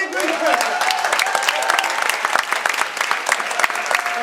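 A comedy mind-reading live show audience claps as volunteers walk up to the stage, dense sharp clapping filling the room steadily, close and fairly loud.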